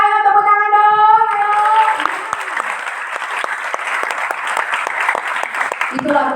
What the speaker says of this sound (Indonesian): Ayo tepuk tangan dong.